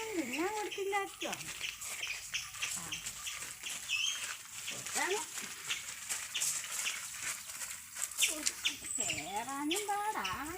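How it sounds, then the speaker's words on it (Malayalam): Backyard chickens cluck and chirp nearby under a person's ongoing speech, with short bird calls scattered through the clip. "കോഴിക്കൊന്നും തിന്നാൻ കൊടുത്തില്ലാച്ചോ?"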